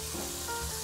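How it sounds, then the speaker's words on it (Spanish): Chopped onion sizzling in a hot pan, a short, steady frying hiss with faint crackles, close and alone. "vamos a esperar que la cebolla refría por espacio de unos"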